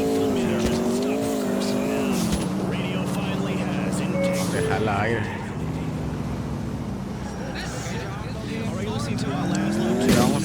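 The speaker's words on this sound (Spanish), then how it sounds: "si escucha los cambios, se escuchan como deportivo" Sporty-sounding car engine from the video game GTA 4, its revs rising and dropping through several distinct gear changes, loud and close, with tire noise and someone talking over it.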